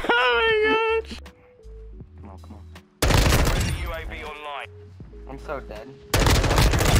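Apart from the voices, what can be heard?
gunfire in Modern Warfare 2 video game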